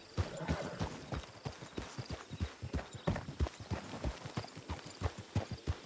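Horse hooves clip-clop in a steady, quick rhythm of many even strikes in a video game, quiet and close, with no talk over them.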